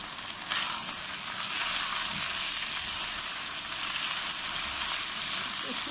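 Chopped tomatoes hit hot oil in a pan for chicken biryani, setting off a loud, broad, continuous sizzle that holds steady throughout.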